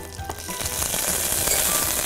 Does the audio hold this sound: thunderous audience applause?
no